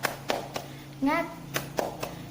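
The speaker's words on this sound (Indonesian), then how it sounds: "Ya, tepuk semangat" First-grade children in a classroom perform a spirit clap, a few sharp separate claps spaced unevenly, broken midway by a brief sung or chanted voice, with a low steady hum behind.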